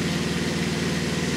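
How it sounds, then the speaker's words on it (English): An old truck engine idles with a steady, even low rumble and a fast regular pulse, close and unbroken, with no voices. "here is the last time this truck ever started, the last time the engine that was in here ever started."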